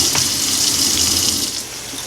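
Tap water running in a kitchen while cooking chicken and rice, a steady close hiss of flowing water throughout, tapering slightly toward the end.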